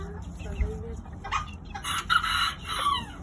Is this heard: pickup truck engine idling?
no